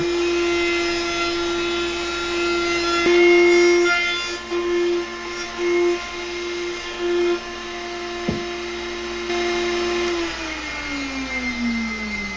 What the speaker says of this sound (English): all I was doing was roughly sanding the top with 80 grit to clean up the glue seam